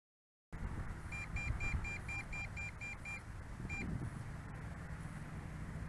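A steady run of short, evenly spaced electronic beeps from an MJX Bugs B2W drone's controller or alert during a distance test, over a constant outdoor hiss, with one last beep after a short gap.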